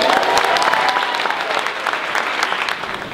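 An audience at a school spoken-word poetry event cheers and applauds loudly, a dense burst of clapping and whoops that fades slightly toward the end.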